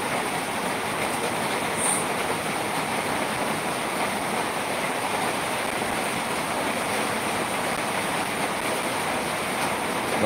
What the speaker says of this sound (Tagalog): Hangin na nakakatakot dito.